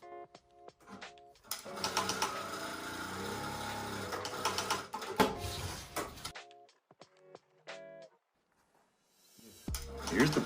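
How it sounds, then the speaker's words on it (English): Juki DDL-8000A industrial sewing machine auto back tacking, heard in several close runs separated by short pauses and sharp clicks, with no talk over it. "So the auto back tack can be adjusted for a wide array of settings on how many times it back"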